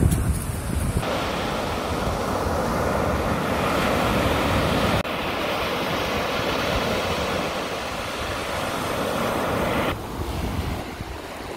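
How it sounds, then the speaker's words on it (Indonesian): A strong wind buffets the microphone at a beach in Bali, with crashing surf beneath it, producing a loud, continuous roar throughout with no talking. "walaupun panas di sini anginnya sangat kencang"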